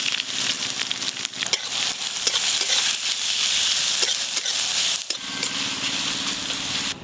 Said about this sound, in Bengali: তেলের উপরে আমি গোটা গরম মশলা, শুকনো লঙ্কা, তেজপাতা ফোড়ন দিয়ে দেবো।